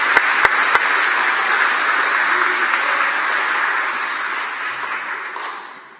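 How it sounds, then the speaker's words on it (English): An audience at an elementary school completion ceremony gives sustained, even applause for the teachers, many hands clapping at close range that slowly tapers toward the end. "Let's give them a big round of applause"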